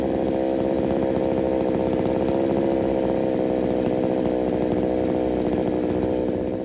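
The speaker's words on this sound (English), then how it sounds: "If you're forcing the saw through a cut, then the blade's probably no good." Chainsaw cutting through wood during storm cleanup, a loud, steady, unbroken engine drone under load running the whole time, close by with no talk.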